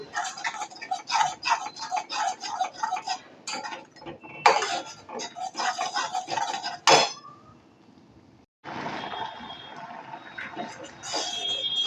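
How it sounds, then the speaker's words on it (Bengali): Pineapple chutney with salt and turmeric is stirred in a pan, a rapid rhythmic clatter of a metal utensil scraping and clinking against the pan, briefly pausing before resuming more softly. "একটু লবণ আর দিয়ে দেব অল্প করে হলুদ আবারও এটাকে নেড়ে দেব"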